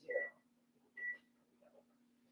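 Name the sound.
kitchen timer being set, beeping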